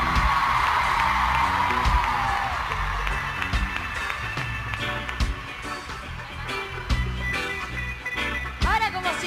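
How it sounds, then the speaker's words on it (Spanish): A concert audience at a 2006 show in Spain cheers, whoops and applauds loudly and steadily throughout, with a dense crowd roar and scattered sharp claps, while an announcer's voice rides over the noise. "Un fuerte aplauso"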